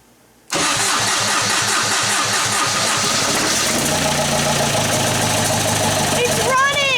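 A TDI diesel engine swapped into a Jeep Wrangler cranks with rhythmic chugging, fires up and settles into a loud, steady idle close to the microphone. A brief whistle-like sound rises near the end.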